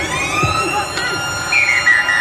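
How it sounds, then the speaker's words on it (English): A rugby league ground's end-of-play siren wails with a steady high, slightly rising tone beneath crowd noise and a commentator's voice, loud and sustained through the moment. "The siren signals the end of play."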